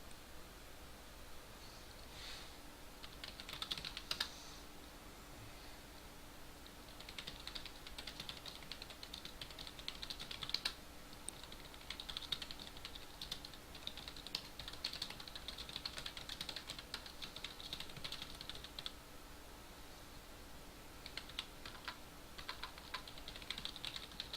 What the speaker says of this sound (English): Sorry, just typing to someone.